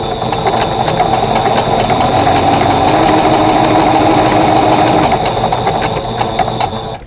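A sewing machine runs continuously while stitching a vintage-style Dresden Plate quilt block, a loud, close, evenly pulsing mechanical whir that hums without pause for several seconds.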